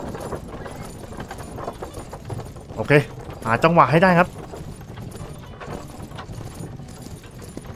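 Galloping horse hooves in the video game Myth of Empires, a steady clip-clop running throughout at moderate level, with someone talking briefly over it midway.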